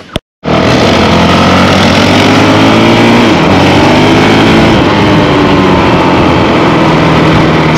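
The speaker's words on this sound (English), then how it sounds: "Troy Bayliss popping a wheelie." Troy Bayliss's motorcycle engine roars loud and close as he pops a wheelie, rising in pitch after a brief near-silent gap at the start and then holding a strong sustained drone.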